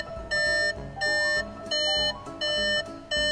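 Warning chime of a VW Golf R Estate sounding with the ignition on and a door open, a loud, insistent series of five evenly spaced electronic tone bursts with short gaps between them, heard close and alone.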